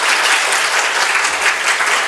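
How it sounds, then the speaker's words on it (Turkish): A packed conference hall bursts into strong, loud, dense applause at a talk for dialysis technicians, a continuous wash of clapping. "Diyaliz teknikeri arkadaşlarım bir kere alkışlayabilir mi? Şöyle güçlü bir şekilde."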